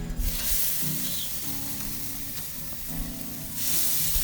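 Thick buffalo steaks sizzle on a gas grill preheated to about 500 degrees, a steady, close hiss with faint background music underneath.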